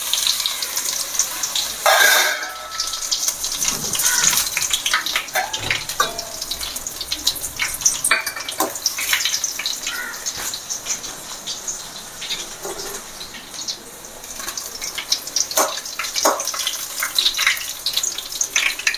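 Garlic sizzles and crackles in hot oil in a pan with mustard seeds, cinnamon and chilli, a continuous close frying hiss with scattered sharp pops.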